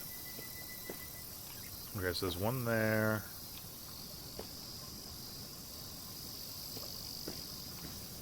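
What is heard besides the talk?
cicadas chirping in a video game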